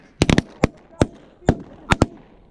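Shotgun blasts during a goose hunt ring out in a quick volley of about eight sharp, loud shots, several tightly grouped, each with a brief outdoor echo.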